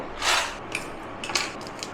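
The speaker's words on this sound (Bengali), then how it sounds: "এইভাবে রসুনগুলি ছাড়িয়ে নেবো।" Garlic cloves being peeled by hand in a home kitchen: a few close, dry crackling and rustling bursts of papery skin, the loudest near the start, then softer scattered rubs with no one speaking.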